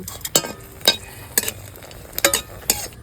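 Green chilies tempering in hot oil in a wok, a low sizzle broken by five or six sharp metallic scrapes and clinks of a spatula at a regular pace, close and fairly loud.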